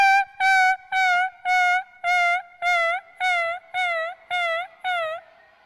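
A person imitates an injured puppy with about ten high, whining whimpers, each a short, wavering cry separated by brief pauses in a steady rhythm, close and clear.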